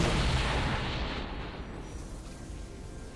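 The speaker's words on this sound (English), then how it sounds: "Blue team's turret has been destroyed." A League of Legends turret being destroyed, a loud booming blast with a broad crackling rumble that slowly decays over about three seconds.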